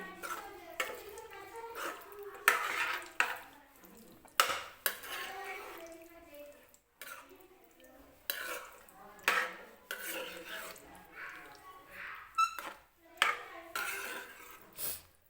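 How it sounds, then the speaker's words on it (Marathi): A spoon stirs yogurt into potato kurma in a pan, giving repeated clinks and scrapes against the metal in an uneven rhythm, close and moderately quiet. "ते दही टाकून घेते. व्यवस्थित मिक्स करून घ्यायचं आहे."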